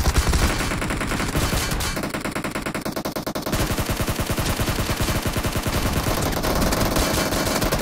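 Dense, loud automatic gunfire in a death match shooting game, with rapid continuous bursts of machine-gun fire that barely pause across several seconds and no talking over them.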